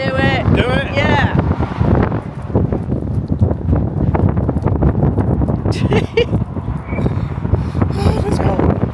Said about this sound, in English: It's extremely windy here.